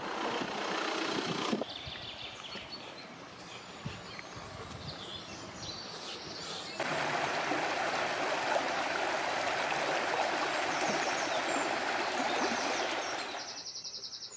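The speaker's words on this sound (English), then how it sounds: "The River Arra runs through the estate." The River Arra flows through a Tipperary estate, a steady rushing water hiss that grows louder partway through, with faint bird calls and distant traffic rumble.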